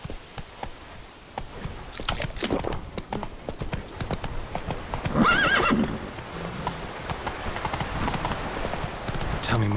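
Roach, a horse in The Witcher 3: Blood and Wine, whinnies and plods with clip-clopping hooves, heard fairly close beneath game dialogue and talking voices.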